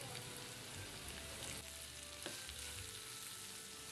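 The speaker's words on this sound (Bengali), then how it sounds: "ক্যাপসিকামগুলো একটু নেড়ে চেড়ে পেঁয়াজের সাথে নরম করে নেব।" Capsicum and onions salted and softening as they fry in a pan for a prawn pasta dish: a faint, steady sizzle with occasional soft stirring, quiet and close, with no talking.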